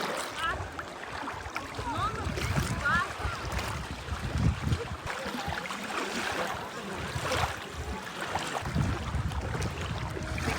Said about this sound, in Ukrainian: І хвилі, хвилі, як на морі.